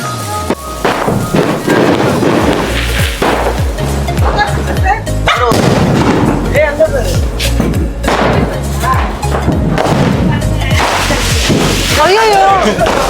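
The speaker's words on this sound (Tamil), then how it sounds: "இதான் வந்து லவ் ஃபயரை வந்து வெடிக்க போறான்" A Love Fire firecracker goes off at a Diwali celebration with loud, close bursts and crackling, mixed with other festive noise and excited voices.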